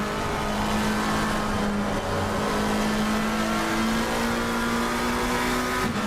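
Mustang and McLaren race cars in a GoFAST Racing game round at Suzuka scream along continuously at high revs, engine notes shifting in pitch as they chase each other down the track.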